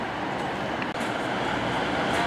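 A Great Western Railway train departs Penzance station, a loud, continuous rumble and roar of wheels and engine passing close by, with one brief dip in the middle.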